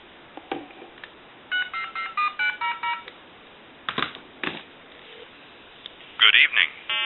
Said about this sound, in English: we'll use our tone dialer now.